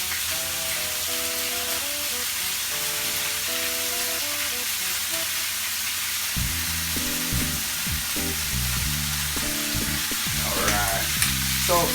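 Pork carnitas fat rendering and sizzling in an iron skillet, a loud continuous frying hiss, joined partway through by clattering stirring and scraping of the meat.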